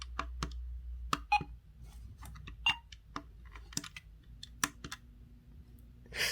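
Scattered clicks and short electronic beeps as buttons are pressed on a toy mobile phone from the Ojamajo/Nadja anime line, irregular and close, over a low steady hum with no speech.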